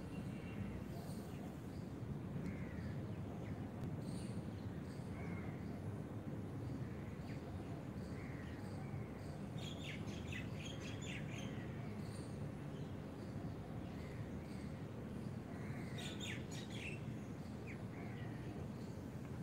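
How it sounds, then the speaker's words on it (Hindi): Birds chirp and sing outdoors in a few faint bursts of short, high tweets over a low, constant background hum. "पक्षियों की चहचहाहट"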